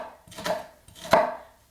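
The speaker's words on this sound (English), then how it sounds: "So the first thing to do is to chop the onions." Two close, crisp knife strokes cut through onions on a board, each a short crunchy thud with a quiet gap between them and no talking.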